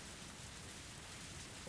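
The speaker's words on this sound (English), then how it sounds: "we were attacked by pouring rain on our way" Steady pouring rain in a Higurashi visual novel, a dense, even hiss of downpour with no breaks, fairly quiet and alone.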